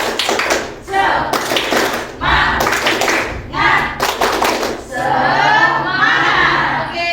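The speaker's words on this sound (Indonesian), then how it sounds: "Kita ice breaking, tepuk semangat sebentar." A classroom of students claps in short rhythmic bursts for a group spirit clap, the claps loud and close. A teacher's voice and pupils' chanting come in between the bursts.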